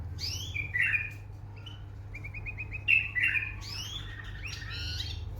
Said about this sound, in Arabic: تغريدة حلو.